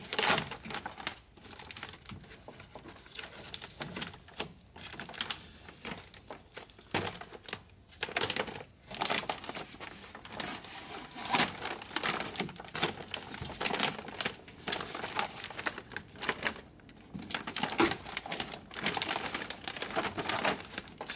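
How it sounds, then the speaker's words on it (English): Duct tape peeled off the door panel of a Honda Odyssey during a window motor and regulator repair, giving a continuous close, loud crinkling and ripping sound with short pauses throughout. "now we're gonna remove these duct tapes."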